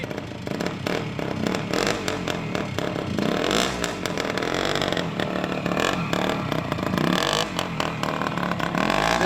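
A 1973 Penton Mudlark motorcycle engine runs close and loud, a steady rough drone with mechanical clatter that holds for the whole stretch, with no talking.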